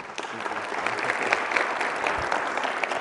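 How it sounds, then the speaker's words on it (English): An audience at an Aspen Challenge student inspiration event gives a round of applause, steady crowd clapping that holds at an even level for a few seconds without talk. "You got to give a round of applause to Jeffrey."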